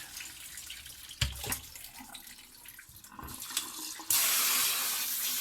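Rice being rinsed in water at a kitchen sink before cooking for fried rice, with a short splash and sloshing early on, then a steady loud rush of tap water running over the grains at the end.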